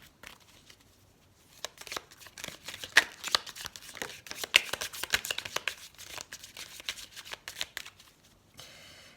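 A deck of lovers' oracle cards is shuffled close by in a quiet room, a rapid crisp riffling and flicking that runs for several seconds and then stops.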